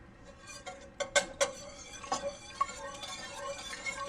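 A whisk clinks and taps irregularly against a pot of lobster cheddar ale soup with chopped lobster meat, the strokes sharp and close, clustering into bursts then thinning out.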